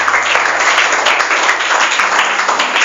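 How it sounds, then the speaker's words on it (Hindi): Loud, sustained applause from a classroom of students fills the whole stretch, dense and steady with no talking. "खुशबू के लिए एक बार जोरदार ताली बजाइए"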